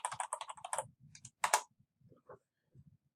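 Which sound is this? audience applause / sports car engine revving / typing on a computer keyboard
typing on a computer keyboard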